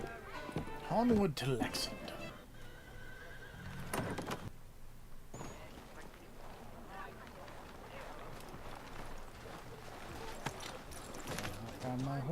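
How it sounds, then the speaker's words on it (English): A horse neighs and gallops in the Assassin's Creed III video game as the rider sets off for Lexington, with hoofbeats and game effects running under a player's steady talking throughout. "Hop on my horse and go away"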